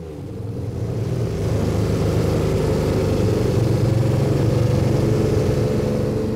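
A six-cylinder car engine burning synthetic biofuel runs as a steady, loud, close rumble that builds slightly in the first second and then holds an even low drone throughout, with no voices.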